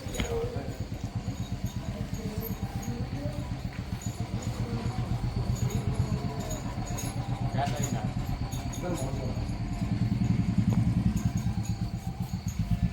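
A Hero Splendor motorcycle idles nearby with a steady, rapid low engine pulse throughout while people talk over it.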